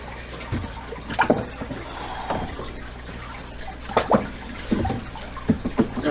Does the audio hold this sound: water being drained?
yes